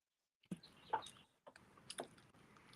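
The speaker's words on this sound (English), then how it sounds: "So, I hear the birds." Birds outside chirp in a few short, faint calls from a distance, heard in a quiet room with no talking.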